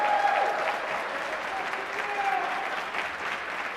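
Sustained audience applause for a school district honor band concert, a broad wash of many hands clapping at steady volume throughout, with faint crowd murmur underneath.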